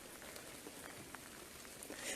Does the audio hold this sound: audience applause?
no